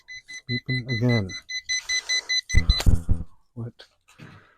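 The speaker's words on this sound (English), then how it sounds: "Beeping again." Jump box on a 1972 Cheyenne Super repeatedly emitting short, evenly spaced electronic beeps, close and clear, with people talking over part of the sequence.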